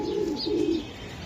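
A racing pigeon coos close by, two soft low throaty calls in quick succession with no talk over them.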